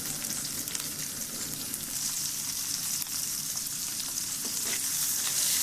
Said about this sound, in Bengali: পেঁয়াজ আর কাঁচামরিচগুলো ভেজে নেব